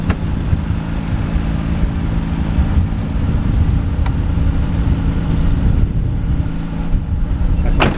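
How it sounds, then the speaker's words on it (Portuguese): A car doing donuts around cones, its engine a steady, close, low rumble that holds for about eight seconds with no other sounds over it. "O Azaghal vai fazer zerinho agora."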